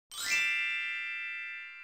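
A notification bell sound effect, one clear bright ding that rings out alone and decays slowly over almost two seconds.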